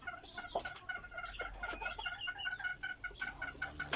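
A fighting rooster clucks repeatedly in short, sharp bursts close by, irregular and persistent, with faint farmyard background.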